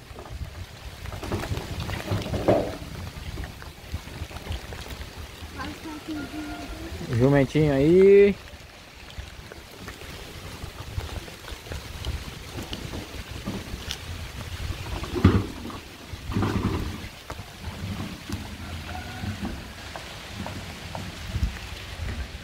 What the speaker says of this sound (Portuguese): Escute, tá chovendo.